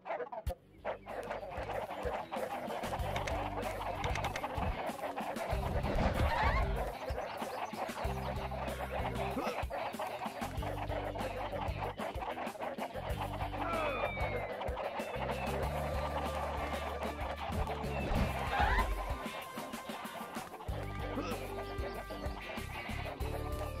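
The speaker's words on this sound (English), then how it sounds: "We need to round up the chickens." Chickens cluck steadily and close in the PS2 video game Shrek 2, a busy, continuous flock of clucks running throughout over a constant game backdrop.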